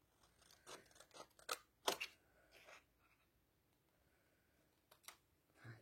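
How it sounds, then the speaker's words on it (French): Scissors snip out small paper words for a Halloween artist trading card, a quiet close run of crisp cuts and paper rustles clustered early, then near silence with a couple of last snips. "Et là, je vais venir découper les petits mots."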